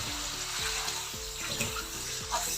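Crushed garlic and softened onion frying in a pan for a Kashmiri chicken dry fruit pulao, a steady broadband sizzle with soft repeated scraping and clinking of a utensil, no talking.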